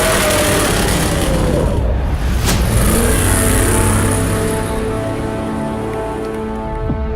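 A Baja 1000 trophy truck engine revving loudly up close, a roaring sustained drone with a sharp burst near the middle, then easing slightly.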